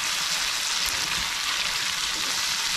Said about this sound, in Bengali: এরকম করে ভেজে নিতে হবে